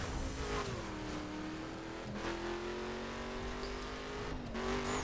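A badly battered car in the racing game The Crew drives steadily, its engine droning loud and continuous with slight pitch shifts as it speeds along, no voices over it.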